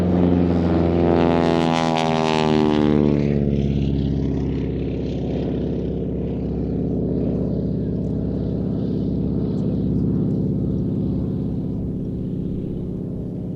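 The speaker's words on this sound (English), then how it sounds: "Aviation super steerman getting airborne" A Super Stearman biplane takes off at an airshow, its radial engine and propeller giving a loud, steady, throbbing drone that rises as it passes close by, then settles into a continuous hum.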